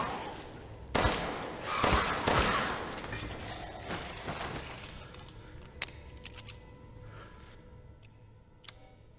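Repeated gunfire from enemies being shot down in the Resident Evil Village video game, several loud bursts of shots early on, then sparser sharp cracks and impacts trailing off toward the end.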